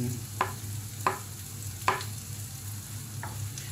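Onions sautéing in a pan for stir-fried string beans, a low, steady sizzle broken by four distinct spatula clacks against the pan, close and moderately quiet with no voices.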